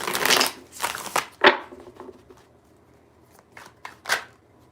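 Tarot cards are shuffled by hand in a series of quick papery riffles and snaps that come in uneven bursts, close up, with no talking.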